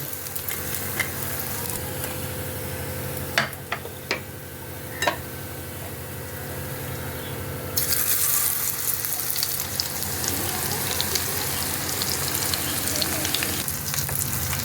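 Amudi fish pakoras deep frying in hot oil, with a steady loud sizzle and crackle that runs the whole time and grows brighter and busier halfway through, with no talking.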